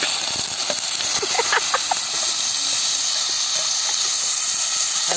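Onions and curry leaves sizzle in hot oil for an egg gravy, a loud continuous hiss close by with a faint voice murmuring beneath it.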